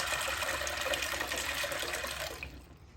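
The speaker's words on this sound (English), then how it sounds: "I'm going to add water to it to soak." Water runs steadily into a bowl of dried black-eyed beans to soak them, a continuous close pouring splash that tapers off near the end.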